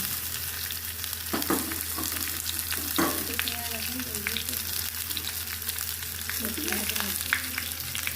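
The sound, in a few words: garlic, chillies and onions frying in a pan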